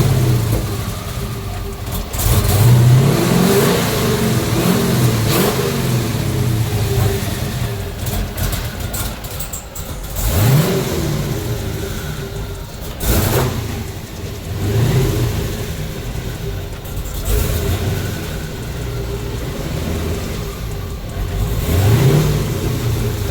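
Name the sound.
twin turbo Dodge Hellcat engine revving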